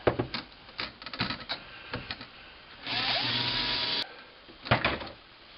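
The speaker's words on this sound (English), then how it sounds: "I'm going to use a 1/4 inch drill bit and mark this hole location" A 1/4 inch drill bit bores partway into a hole, with a steady whine lasting about a second. Scattered clicks and handling clatter come before and after the drilling.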